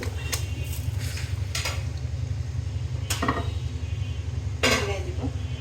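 Cooked chicken goes into a biryani pot with a few sharp metal clinks of a spoon against the pot over a steady low cooking hum, the strikes spaced irregularly.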